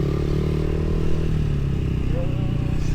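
A stock-engine Yamaha Aerox 155 V3 scooter with an upgraded CVT riding at night, a steady droning engine hum with rattly clatter, heard close and continuous, with a voice talking over it.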